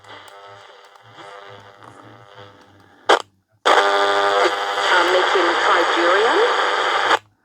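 An AM radio hisses and crackles with steady static and a low buzzing hum, interrupted by a sharp click and brief silence before louder static returns.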